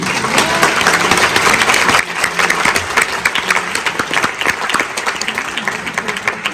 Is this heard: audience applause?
yes